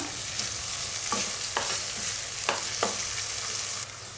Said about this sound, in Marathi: थोडीशी शिमला मिरची घालून घेऊया छान असं परतवून घेऊया